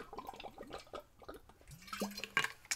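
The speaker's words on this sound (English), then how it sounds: "Let me grab a sip of water here." A person takes a sip of water during a live acrylic pouring painting session, small wet mouth and swallowing sounds with a brief glug, close and quiet, amid light rustling.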